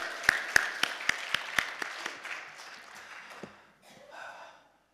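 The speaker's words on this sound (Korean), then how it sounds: "우리 하나님 앞에 영광의 박수 올려드립니다." A church congregation at a fasting prayer retreat claps in unison, sharp evenly spaced beats about four to a second that soon blur into a softer scatter and die away to near quiet.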